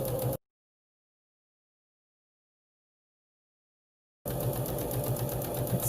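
A sewing machine runs a seam across the top of a fabric face mask, a brief close whirr at the start, then several seconds of silence before the motor hums steadily again to the end.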